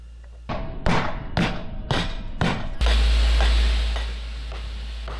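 Greased pins hammered into a boat rudder: five heavy, evenly spaced hammer blows ringing close and loud, followed by a deep rumbling thud and lingering resonance.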